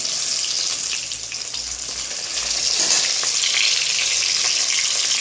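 Rohu fish, a local Bangladeshi catch, frying in a pan gives a steady, dense sizzle of hot oil that holds for about five seconds and swells slightly midway, with no voices.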